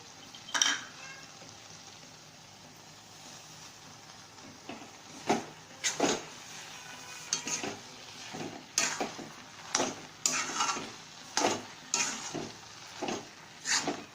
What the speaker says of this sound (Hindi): अब हम इसमें शक्कर डालेंगे।